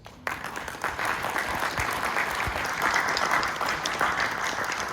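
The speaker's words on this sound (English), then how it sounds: "Please give yourself that all-important round of applause." Sustained applause from a conference crowd, steady and full after a brief quiet start, continuing unbroken throughout.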